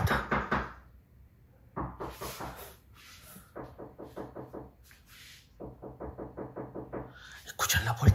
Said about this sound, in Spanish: Escuchen la puerta.